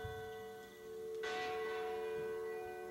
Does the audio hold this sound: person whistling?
no